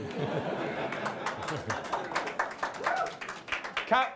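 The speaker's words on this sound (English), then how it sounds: "You can clap if you would like to." Scattered audience clapping at a policy launch event, a loose patter of individual claps building unevenly, with murmured chatter and a brief laugh among the crowd.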